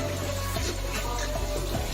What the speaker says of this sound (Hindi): तो लिहाजा हमने थोड़ा जा पानी पा लिया